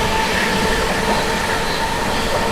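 The Sampoorna Kranti Express runs at speed with a steady, loud rail roar and rumbling wheels, heard from inside the train with no break.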